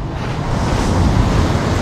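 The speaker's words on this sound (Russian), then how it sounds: "Прибой функционирует." Sea surf breaks on a pebbly beach at Lazarevskoye near Sochi, a steady, loud, close wash of water with wind buffeting the microphone.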